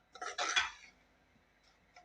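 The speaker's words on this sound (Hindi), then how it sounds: "सूजी को आपने कंटिन्यू चम्मच चलाते रहना है और इसे अच्छे तरीके से भूनना है" A spoon scrapes and clinks against a pan while semolina roasts for suji halwa, a quick cluster of metallic taps, then silence with a couple of faint ticks.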